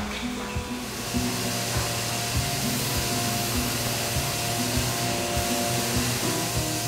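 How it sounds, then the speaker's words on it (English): A CNC router runs steadily in a wood shop at a Pilates equipment factory, a loud continuous whirring drone with a tonal hum, close by and without talk. "So I'm standing in front of one of our CNC routers"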